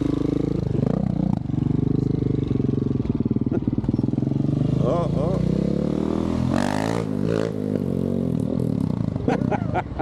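A KTM motorcycle revs and pulls away on a mountain road, its engine rising in pitch as it accelerates, heard under steady wind and someone talking nearby.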